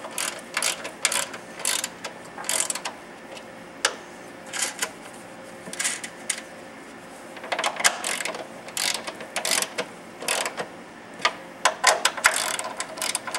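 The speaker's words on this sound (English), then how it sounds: "We will snug these up with a ratchet, being careful not to put too much torque on any individual stud." A hand ratchet snugs the strut mounting stud nuts on a 2002 Dodge Neon during a Monroe Quick-Strut install, giving repeated bursts of rapid metallic clicking in short strokes with brief pauses, close and clear, with no voices.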